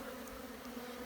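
Honeybees buzz around open hive frames packed with pollen, a faint, steady droning hum that holds without pause, close by and alone with no talk.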